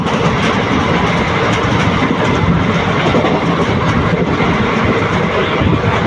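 Passenger train running fast on the line between Dindigul and Udumalaipettai near Pollachi, a steady loud rushing roar with wheel clatter throughout, heard close from aboard, no talking.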